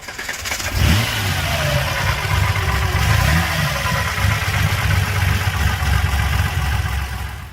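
A Holden Torana's 3.05-litre, 186 cubic inch straight-six on triple twin-choke carburettors barks into a loud rev near the start, then settles into a throaty, lumpy idle with repeated blips close by.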